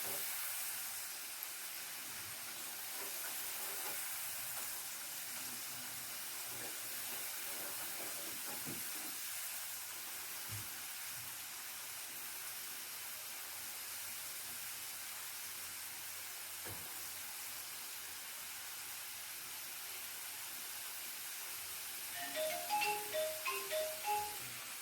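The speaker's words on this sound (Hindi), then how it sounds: "देखें जी, माशाल्लाह चिप्स फ्राई हो रहे हैं जी।" Potato chips fry in hot oil with a continuous soft sizzling hiss, faint and steady, and a few stirring clinks come near the end.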